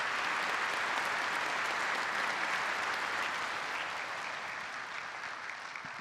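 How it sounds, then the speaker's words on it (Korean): An audience at a March 1st Independence Movement Day ceremony gives the performers a sustained round of dense, loud clapping that fades slightly toward the end. "출연진께 여러분 다시 한번 큰 박수 부탁드리겠습니다."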